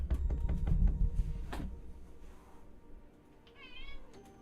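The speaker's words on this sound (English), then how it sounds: "Meow." A domestic cat meows once near the end, a short rising call that stands alone after some earlier muffled thumps and movement nearby.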